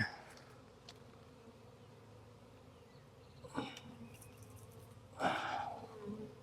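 Honey bee swarm, a faint continuous buzzing hum under outdoor background, with a couple of brief louder rustles or handling noises partway through.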